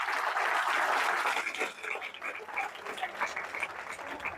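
Audience clapping at a public talk, a dense loud burst of applause that gradually thins out and tapers into scattered claps.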